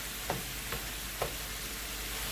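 Tofu frying and browning in a pan, a steady close hiss of sizzling oil with a few faint stirring clicks over it.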